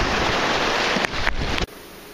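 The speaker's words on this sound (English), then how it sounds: "I don't know if you can see it or not, but it's raining." Light steady rain falls outdoors near a bay, a dense and even hiss with a few sharp microphone bumps, then a sudden drop to a quieter wash.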